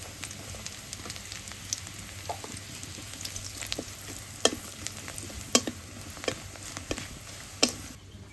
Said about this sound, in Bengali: পেঁয়াজ ভাজা হয়ে গেছে, হলুদ গুঁড়ো দিয়ে দিই।